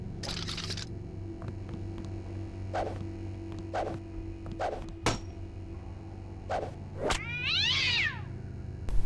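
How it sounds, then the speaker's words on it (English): Cat meowing in the video game Deus Ex, several short meows spaced through the scene over a low ambient game hum, ending in a longer, louder wavering meow. "There's a cat."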